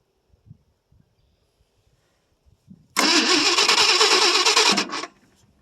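A 1968 Ford LTD two-door hardtop with a 390 FE V8 is cranked from cold after sitting about three years, catching in a loud, steady roar for roughly two seconds before cutting out, following a few faint clicks.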